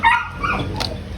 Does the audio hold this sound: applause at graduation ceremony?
no